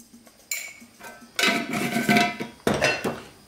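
Metal clatters as a lid is set onto a pot, two clanking bursts after a softer tap, close by.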